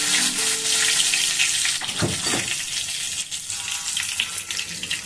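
Bay leaves, black cumin and cumin seeds sizzle in hot oil in a home kitchen pan, a steady bright crackling hiss that swells briefly midway with a stir, continuous and close, with no talking.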